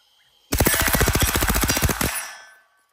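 An AK-12 rifle with a 10-round magazine fires a rapid burst of about fifteen shots in steady rhythm, loud and close, lasting roughly a second and a half before a short echoing tail.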